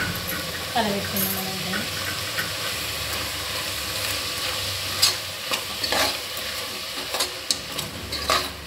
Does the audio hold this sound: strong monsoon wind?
no